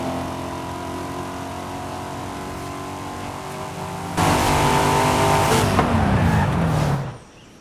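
Racing car in the Forza Horizon 5 driving game: a steady engine drone rises to a loud high-speed roar, pitch climbing through gear shifts before cutting off abruptly, close and without talk.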